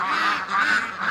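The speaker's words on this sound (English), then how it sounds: "So let's let the ducks out" Ducks being let out honk and quack loudly and close by on a homestead, a continuous nasal, overlapping chorus of several birds calling at once without pause.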